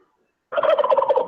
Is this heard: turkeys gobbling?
yes